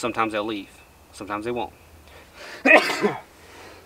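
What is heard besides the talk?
sneeze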